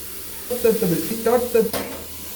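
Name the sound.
tomatoes sautéing in a pan for chicken biryani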